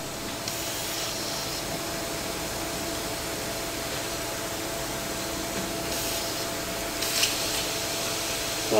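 An airbrush for painting scale models sprays cleaning liquid out of its paint cup in a steady, faint hiss that continues unbroken without speech, with a small bump near the end.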